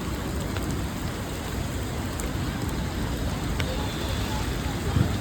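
Monsoon rain pours steadily at Athirappilly, a dense, even hiss filling the whole stretch with no pauses and only faint occasional ticks of drops.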